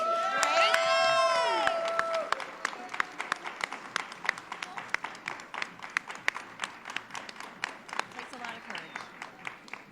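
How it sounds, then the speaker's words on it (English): Demo day audience at the Frontera Leadership Institute gives a round of applause for the cohort on stage, a dense burst of clapping and cheering that starts under a loud voice and whistle-like tones, then thins into scattered claps. "Quick round of applause to everybody up here on stage."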